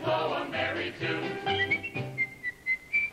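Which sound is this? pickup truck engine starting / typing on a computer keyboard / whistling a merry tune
whistling a merry tune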